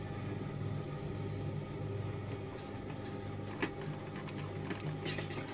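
A sewing machine stitches the top edge of a women's shorts waistband, a steady mechanical whirr and hum with small clicks and a brief knock, close by and without talk.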